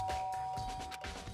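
A doorbell chimes in the Danganronpa video game, a single clear ding-dong with a sustained ringing tone over a low game background.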